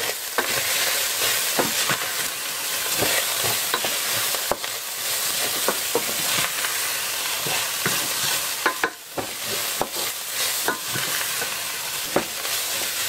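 Savory and herbal pepper are stirred into a sizzling pot for tomato soup with minced meat and lasagne pasta. A continuous loud fry runs under repeated spoon scrapes and clicks against the pan, with no talking.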